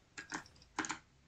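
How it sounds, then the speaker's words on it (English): A few quick keystrokes on a computer keyboard in two short bursts, clicky and close, with quiet pauses between them. "Sorry if my keyboard's loud"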